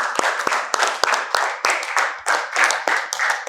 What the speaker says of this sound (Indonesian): kita beri tepuk tangan untuk kelompoknya Marcelino